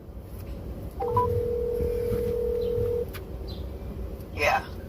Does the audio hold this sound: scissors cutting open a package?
no